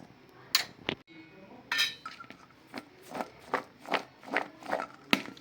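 Mango pickle pieces being stirred with salt and turmeric in a metal bowl, a rhythmic series of close scraping and clinking strokes from a spoon, about eight of them, evenly spaced with no talk.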